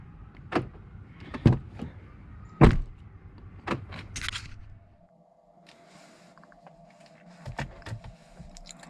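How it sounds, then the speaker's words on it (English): Door locks on a 2017 Chevy Bolt EV Premier actuate via key fob: several sharp clunks and short mechanical thumps in quick succession, close and fairly loud, followed by a quieter steady hum. "Open, lock, and it works on all four doors."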